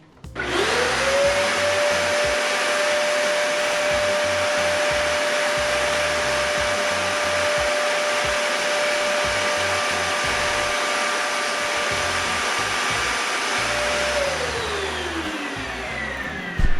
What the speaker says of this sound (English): let's take a look at the Dyson Ball Animal Plus, another Costco purchase, and just see how loud that is